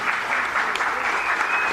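Audience at a Delhi Tamil Sangam appreciation ceremony applauding an award-winning doctor, a steady, dense burst of clapping filling the hall throughout.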